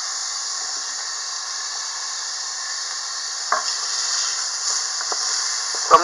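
Diced peppers, finely cut sage leaves and crumbled sausage sauté in a Housmile pressure cooker, giving a steady low sizzle with a few brief scrapes and stirring knocks near the end.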